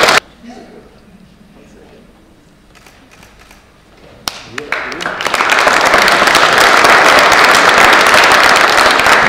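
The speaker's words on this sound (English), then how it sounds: "So please, a big round of applause for Lachlan Macmillan and his poem, The Inner Thoughts of Fred the Fox." An audience at the Green Pencil Awards 2013 ceremony breaks into applause after a quiet, scattered start, swelling into loud, dense, sustained clapping.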